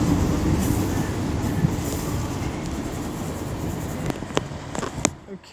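A train at Wolverhampton station on the West Coast Main Line, a steady loud rumble of the train alongside the platform with a few sharp clicks and squeaks near the end.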